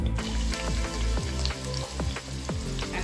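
Onions sizzle and fry in hot oil in a sufuria pot, a steady crackling hiss with repeated clinks and scrapes of stirring throughout, close and loud with no talking.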